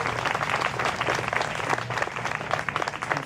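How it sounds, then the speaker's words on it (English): A crowd at a school protest applauds the children, with dense, steady clapping and a few faint voices underneath throughout. "give the kids a big round of applause."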